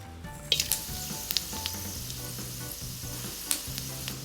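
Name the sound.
whole garam masala sizzling in hot oil in a pan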